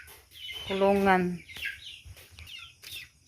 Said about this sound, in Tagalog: Lipat natin yung ating sisiw.